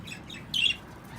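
One short, bright chirp rises from English budgies kept in breeding cages, a brief call against a quiet room hum.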